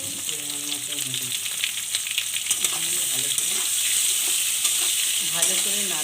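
Vegetable stalks sizzle in hot oil with salt and turmeric, a bright, constant frying hiss with light stirring, while a voice talks faintly in the background.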